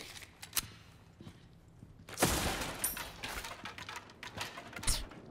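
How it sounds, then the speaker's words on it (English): Bursts of gunfire from Resident Evil 4 (2023), a few sharp shots early and then a denser, louder volley with crackling impacts, heard alone without voices. "I have to use my gun"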